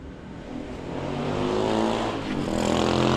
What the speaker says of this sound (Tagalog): Yung Robin umandar na, yung diesel kakasapa namin.